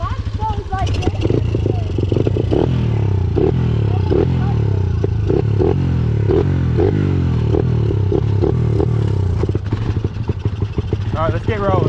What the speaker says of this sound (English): let me get the bike started